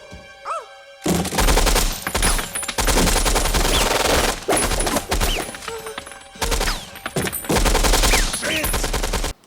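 Loud, sustained automatic gunfire from a movie scene in which a dropped gun keeps firing as it falls down stairs, the rapid bursts continuing for several seconds with only brief gaps.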